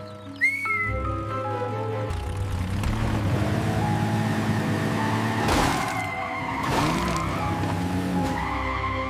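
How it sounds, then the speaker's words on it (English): A plastic toy truck races with a rising engine whine and long tire squeals and skids, the sounds sliding and overlapping across several seconds. "Let's race! My plastic truck is unbeatable!"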